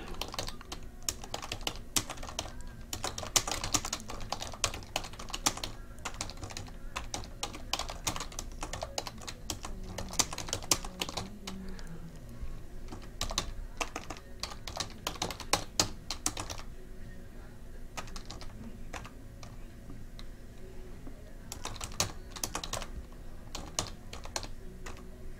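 Steady typing on a computer keyboard, with quick uneven key clicks that carry on close and fairly quiet for about twenty-five seconds, briefly thinning out partway through before picking up again.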